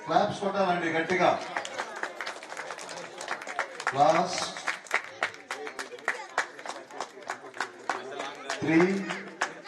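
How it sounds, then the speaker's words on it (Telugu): A crowd at a Sankranthi festival closing ceremony claps in fast, regular beats that continue throughout, while a loud amplified voice speaks over the clapping. "క్లాప్స్ కొట్టాలండి గట్టిగా."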